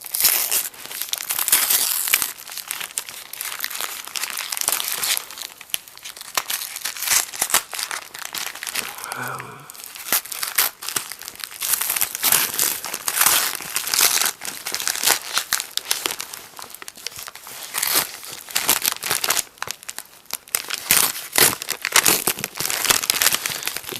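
Continuous crinkling and tearing of bubble wrap and packing tape as a comic book parcel is unwrapped, close and busy throughout, with a brief lull partway through.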